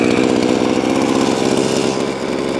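A VEVOR 52cc gas multi-tool engine runs with a loud, steady, close mechanical drone, then eases slightly lower near the end.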